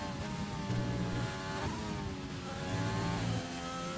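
Race car engine in a racing game at a British circuit, winding up through gears with audible downshifts, steady loud engine whine rising and dropping in pitch as gears change.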